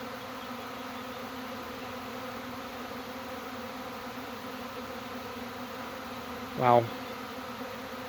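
Honey bees buzz steadily around backyard hives in swarm season, a dense continuous drone close by, with a brief spoken exclamation near the end.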